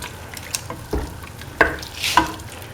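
A spoon stirring an egg, winter melon and coconut milk mixture in a hot pan, with soft scraping strokes and light sizzling in a few separate bursts, close and fairly quiet.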